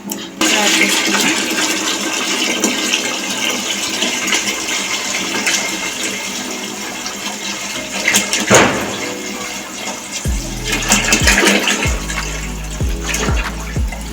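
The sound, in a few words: pouring water into a pot for boiling rice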